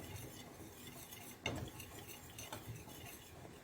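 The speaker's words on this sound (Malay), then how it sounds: "Kacau hingga sebati ya." A spoon clinks and scrapes around a bowl in steady, close stirring of chocolate cake batter with eggs, with a sharper knock partway through and no voices.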